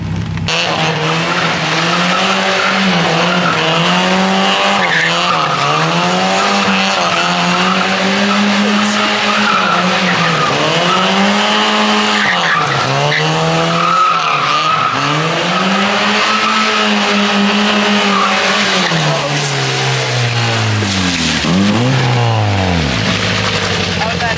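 Loud engine of a Mazda Miata revving up and down in repeated swells with tires squealing and skidding as the car spins donuts on private property, close by and continuous.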